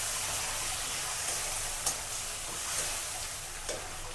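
Spice paste curry of cumin and green coriander paste sizzles in a pan after a splash of water is added during sautéing. A steady, moderate hiss runs throughout, with a few faint clicks from the stirring utensil.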